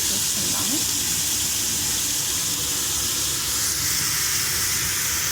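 Curry leaves crackle and sizzle in hot oil in a pan with potatoes, a dense, steady hiss that stays loud and close throughout.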